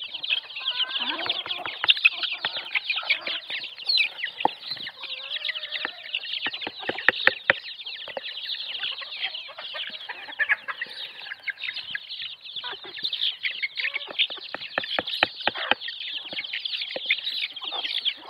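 A flock of deshi country chickens clucks and chatters continuously at close range during feeding, with busy overlapping calls and sharp peck-like clicks throughout, and no talk.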